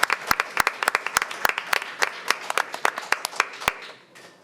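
An audience at a school board meeting claps for the Blue Ribbon Teacher Award winners, giving dense, close, steady applause with sharp individual claps throughout that taper off at the end.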